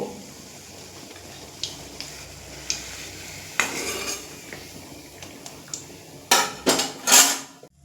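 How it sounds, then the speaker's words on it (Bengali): Banana flower (mocha) koftas in hot oil in a pan, with a run of clinking utensil and metal pan knocks while they are lifted out, the hard clatter loudest near the end over a faint background. "এবার তুলে নেব আর একইভাবে বাকি কোপ্তাগুলো ভেজে নেব"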